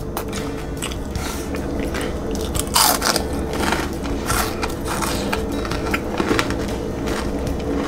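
Loud, close crunching and chewing of crispy fried yellow perch, bones and all, with repeated sharp crackly bites and steady mastication throughout.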